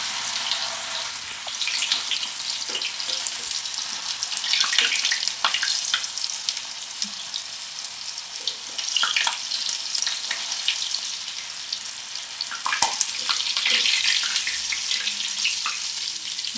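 Chicken pakoda pieces deep-frying in hot oil, a loud, continuous crackling sizzle that swells in bursts as more pieces are dropped in, with no one talking.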